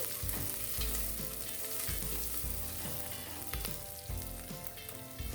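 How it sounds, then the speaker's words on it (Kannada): Curry leaves, garlic pieces and moong dal frying in oil for amaranth saaru, a dense, loud crackling sizzle with rhythmic low thumps and scrapes as the pan is stirred, with no voices. "ಕರಿಬೇವಿನ ಎಲೆ ಇವನ್ನ ಸ್ವಲ್ಪ ಎಣ್ಣೆಯಲ್ಲಿ ಫ್ರೈ ಆಗೋಕ್ಕೆ ಬಿಡಿ. ಹೆಸರುಬೇಳೆ ಹುರ್ಕೊಳ್ಳಿ ಚೆನ್ನಾಗಿ."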